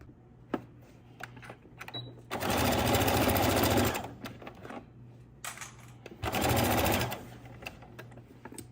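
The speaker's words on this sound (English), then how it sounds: "So we're just gonna stitch down and close it on up." A sewing machine stitches a lining closed in two loud, fast bursts of about one and a half and one second, with quiet handling clicks and rustles between them.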